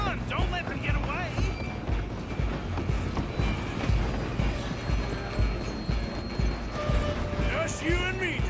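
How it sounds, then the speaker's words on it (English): A train runs steadily in the Red Dead Redemption 2 video game, its rumbling, rattling rail noise continuous and loud throughout, with occasional higher metallic squeals riding over the din. "I'm gonna ride ahead and stop the train."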